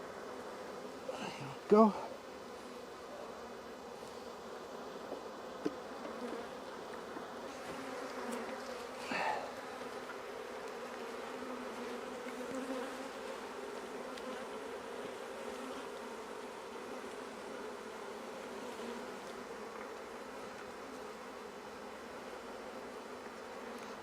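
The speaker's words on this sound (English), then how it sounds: "Oh, I hear the queen piping, so I know she's still there." Honeybee queen piping inside an open hive, heard within a constant close buzzing drone of many bees, with a few louder knocks and brief speech from a person standing nearby.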